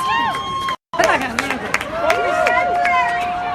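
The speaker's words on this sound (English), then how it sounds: "Big cheers from the crowd as they hear the federal judge lifted the ban news" A crowd at an anti-Trump protest rally at an airport cheers and shouts close by in a dense jumble of raised voices, cut by a very short silent gap, then swelling again.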